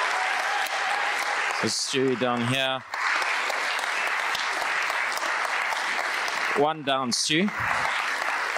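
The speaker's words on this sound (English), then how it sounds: "as they come up, we can give them a round of applause" A congregation applauds for newly appointed church elders at a Sunday service, with steady clapping running throughout while someone speaks briefly over it.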